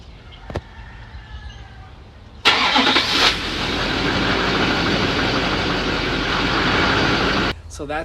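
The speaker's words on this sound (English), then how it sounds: "start up your truck to make sure everything's okay" A 2006 Chevy Duramax diesel truck engine cranks and fires up, settling into a loud, steady idle rumble for several seconds before cutting out, with a brief click beforehand.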